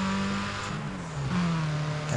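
A race car engine in Need for Speed ProStreet revs loud and close, its pitch sagging between shifts and then climbing again as the car pulls hard through the gears, with no voices over it.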